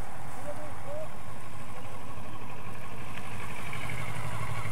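A motorcycle engine runs steadily during a riding exercise, with a low continuous drone that holds throughout and no one talking over it.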